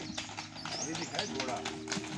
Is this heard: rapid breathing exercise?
no